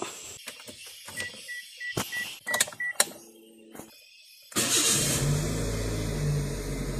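A car engine cranks over and catches, then settles into a steady, fairly loud idle at a little over 1000 RPM. Before the start there are scattered clicks and handling noises. The car has an idle RPM problem that makes the engine shake when the air conditioning is on.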